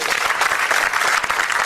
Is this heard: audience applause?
yes